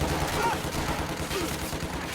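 Rapid bursts of video game gunfire crackle continuously over a dense, noisy backdrop, with a faint voice underneath.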